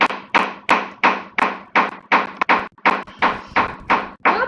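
Construction work overhead in a house, heard as a steady series of about a dozen loud, sharp banging impacts at a regular rhythm, each with a short ringing decay, with no talking.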